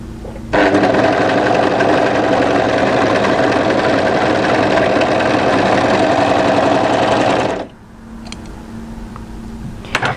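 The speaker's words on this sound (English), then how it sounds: "I'd like you to overlock that down from those 2 matching edges right through to the notch position" An overlocker serging two matching fabric edges of a draped dress pocket seam runs loud and steady for about seven seconds, a continuous fast mechanical whir, then stops abruptly, leaving quiet room noise with a couple of small clicks.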